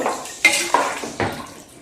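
A metal spoon stirs sambar in a pressure cooker, giving three distinct scraping clanks against the pot, close and clear with no talk.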